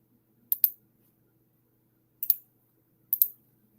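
A computer mouse clicks on a chart: three short, sharp bursts, each a quick double click, in an otherwise quiet room.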